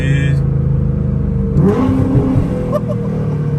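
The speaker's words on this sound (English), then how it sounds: "Downshift, baby." A 750+ hp Nissan GT-R downshifts with a loud, close engine blip and revving that swells midway and then settles into a throaty rumble.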